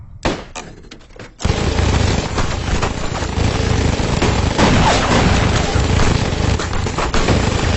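Heavy gunfire in an action film, a few separate shots and then a sustained, loud barrage of rapid overlapping fire, with shouting voices mixed in.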